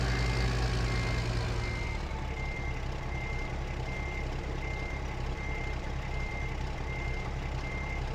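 A truck in American Truck Simulator backs up its trailer while parking, its reversing alarm beeping steadily and evenly over the constant low rumble of the idling engine, with no voices.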